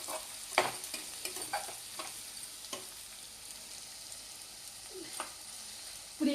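Mutton pieces sizzle in a pan for an Andhra-style cashew mutton curry, a steady hiss broken by scattered clinks and scrapes of stirring, close and moderate, with no talking.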